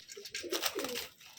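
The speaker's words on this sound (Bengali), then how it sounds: "একটা পায়রা বেরিয়ে গেল" Pigeon cooing inside a loft, a few soft murmuring coos over about a second and a half, moderately close and fairly quiet, with no voices.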